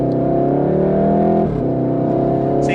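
A VW Golf R accelerating hard on a private road, heard from inside as a loud, steady engine drone climbing in pitch, a brief gear-change dip, then pulling again, with no speech.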